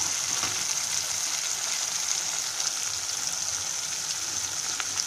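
Tomatoes sauté in a pan of oil while sunda vaththa kuzhambu is being cooked, giving a steady close sizzle and fine crackling that continues evenly throughout with no talking.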